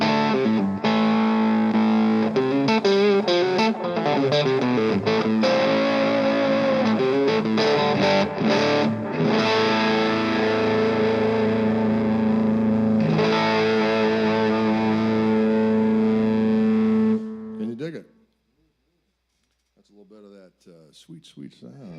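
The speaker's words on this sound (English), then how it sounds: "I did new pickups with Fishman with this guitar." An electric guitar fitted with new Fishman pickups plays a loud, heavily distorted passage with sustained notes and bends, ringing for a long stretch before cutting out; a voice briefly follows.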